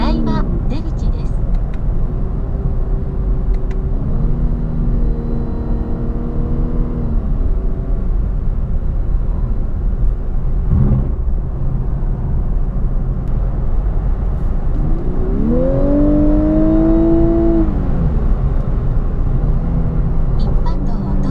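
A Lexus LC500h hybrid coupe at full acceleration on the Shuto expressway gives a steady road and wind roar, with a rising engine whine that swells twice as the car surges forward.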